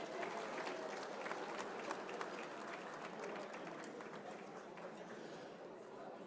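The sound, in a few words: audience applause for the musicians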